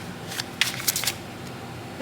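Oracle cards being shuffled up close, a few quick riffling bursts of papery flutter and clicks over quiet room tone, no voices.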